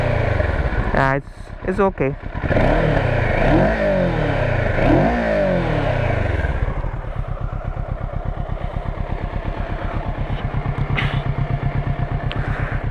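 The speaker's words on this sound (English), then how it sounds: "Exhaust, let's rev this thing." A Kawasaki Z650 naked motorcycle engine revs hard several times with rising and falling throttle sweeps, then drops to a steady, loud, throbbing idle. A brief voice is heard early on.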